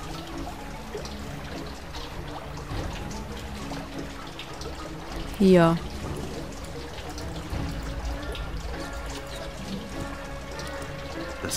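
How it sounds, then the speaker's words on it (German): Water flowing in the adventure video game Jack Keane, a steady soft trickle and stream running throughout, with a brief spoken word partway through. "Das Wasser fließt jetzt hier so entlang."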